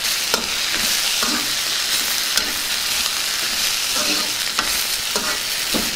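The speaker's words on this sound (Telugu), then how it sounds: "ముందుగా శుభ్రం చేసి పెట్టుకున్న ఉల్లికాడల్ని ఇందులో వేసేసుకుందాం. వీటిని ఒకసారి బాగా కలుపుకుందాం." Spring onions sizzle and fry in a pan while being stirred, a steady hiss broken by regular scraping strokes of the spoon, close and continuous with no talking.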